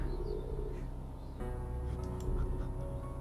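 A bird cooing in the Gabriel Knight adventure game The Beast Within, a soft repeated coo set against a dense bed of game music and ambience.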